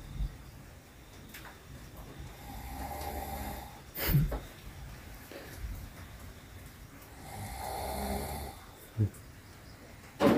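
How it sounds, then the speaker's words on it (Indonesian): Rough, drawn-out snoring from a man sleeping in a jungle hut, slow breaths recurring at close range over steady background noise. "Ngorok teman-teman."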